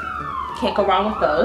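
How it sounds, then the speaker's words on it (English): Police sirens wail as they pass outside in New York, a long falling tone rising into layered overlapping sirens behind someone speaking close by. "Sorry for the sirens, I live in New York."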